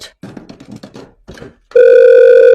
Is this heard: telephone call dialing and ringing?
yes